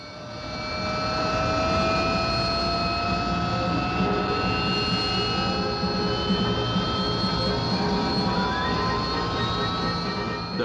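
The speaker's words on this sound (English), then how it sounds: "While hovering, the Kestrel can turn in any direction and even go backwards" An RAF Hawker Siddeley Kestrel jump jet's engine roars loud and close in a steady, sustained whine with shifting tones, holding throughout with no talk.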